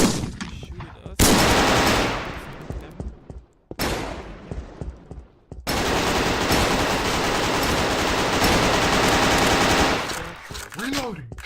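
Gunfire from bots in a first-person shooter video game: loud bursts of rapid automatic fire in long stretches, broken by short pauses, with faint background game noise.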